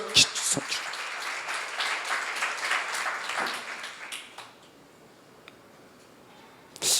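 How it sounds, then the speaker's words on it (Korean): A seminar audience claps in a dense burst for about four seconds, then it dies away into quiet room tone, with a couple of sharp knocks after. "박수로 하지."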